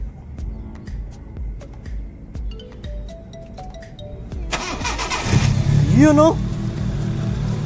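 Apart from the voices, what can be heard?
Honda Civic 2005 engine starting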